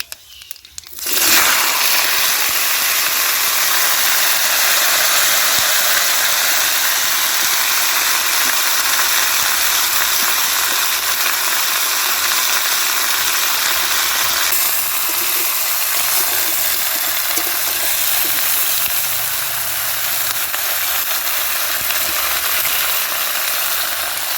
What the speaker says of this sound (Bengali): তেলের ওপর তেজপাতা দেবো পাঁচ ফোড়ন দেবো দিয়ে এই সবজিগুলো সব দিয়ে দেবো